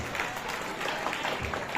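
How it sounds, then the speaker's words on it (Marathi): An audience at a school farewell ceremony claps for a teacher, a continuous, even burst of many hands clapping close by. "खरं म्हणल्यावर पोगे सरांसाठी टाळ्या वाजल्या पाहिजे"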